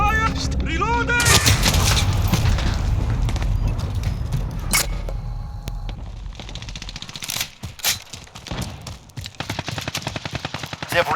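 Rapid bursts of automatic gunfire and booming explosions in a multiplayer team deathmatch shooter battle at Al-Raab Airbase, loud and dense, with brief shouted voice callouts early on.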